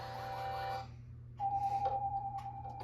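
A character whistles in the video game EarthBound: a sustained, steady whistled tone that breaks off briefly, then returns as a louder, pulsing run of notes, with no talk over it.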